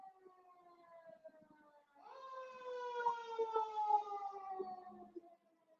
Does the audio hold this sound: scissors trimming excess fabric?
no